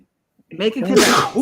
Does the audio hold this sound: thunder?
no